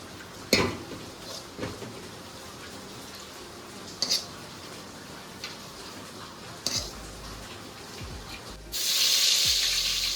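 Garlic dropped into hot oil in a pan for a spicy Konkani-style crab curry, a few soft knocks and clinks before a sudden loud sizzle bursts up near the end.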